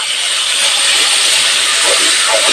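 Kashmiri red chili powder mixed in water sizzles loudly in hot oil, a steady, intense frying hiss close up that continues unbroken.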